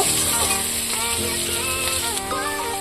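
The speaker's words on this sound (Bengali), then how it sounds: "এর মধ্যে দিয়ে দেব ক্যাপসিকাম কুচি, সবগুলো ভালো করে ভেজে নেব।" Chopped capsicum frying in a pan for egg fried rice, with a continuous, fairly loud sizzle and occasional stirring; a faint tonal background hum runs underneath.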